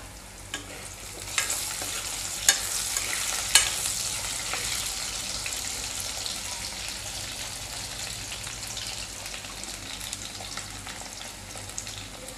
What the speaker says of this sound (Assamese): যেটো মই অকন আলুটো ভাজি লৈছো